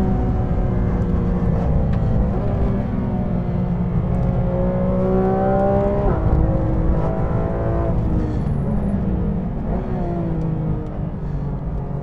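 On-board engine of an IndyCar lapping the Thermal Club circuit, a loud continuous high-revving roar with rising pitch sweeps through upshifts and dips on braking, close and unbroken for the whole stretch.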